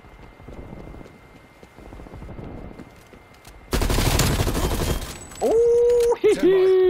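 Gunfire in the online shooter Call of Duty Black Ops Cold War breaks out as a loud, dense burst of shots after a few seconds of quieter game noise, followed by further sharp sounds and effects, with a voice talking at times.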